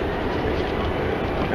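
An Amsterdam metro train gives a steady, loud rumble and rush throughout, with no voices over it.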